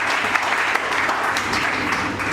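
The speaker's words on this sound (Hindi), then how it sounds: "जोरदार तालियां भाई के लिए।" Steady, dense applause from an audience at a motivational network-marketing business seminar, filling the whole stretch loudly and evenly without any talk over it.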